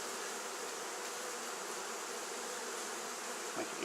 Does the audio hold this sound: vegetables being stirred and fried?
no